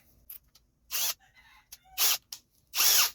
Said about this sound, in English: Also make sure you have your drill in reverse.